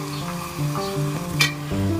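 Vegetables stir-frying in a hot pan for veg chilli momos, a continuous sizzle with a tossing scrape near the middle, fairly close and alone without speech.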